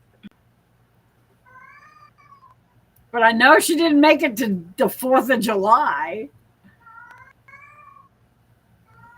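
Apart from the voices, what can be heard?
cat meowing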